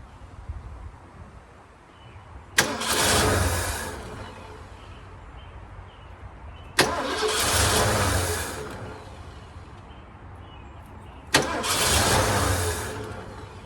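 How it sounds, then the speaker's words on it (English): An abandoned one-owner Lincoln Mark V, sitting 27 years and with a starter fault, cranks and fires three times, each a sudden loud burst of starter whir and engine catch that settles and fades, with quiet pauses between attempts. "I think that fixes the continuous cranking from the starter staying on"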